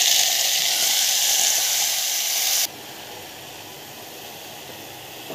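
Fenugreek leaves and chopped green chili sizzle steadily in a hot pan, a loud bright hiss that drops abruptly to a softer, steady simmer partway through, with no talking.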